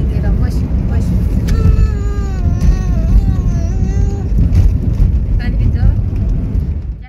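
A car on the road to Ajara gives a loud, steady interior rumble and road roar throughout. A brief wavering tonal sound rises and falls in the middle.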